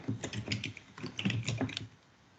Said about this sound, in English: If I can ever type.